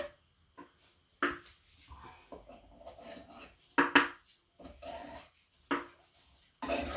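A palette knife scraping wet acrylic paint off a surface, several short separate scrapes with quiet gaps between, each a brief rasping stroke close up.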